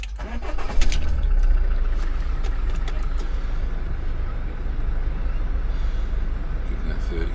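A van's engine cranks and catches, then settles into a loud, steady idle with a deep, even rumble that continues without a break.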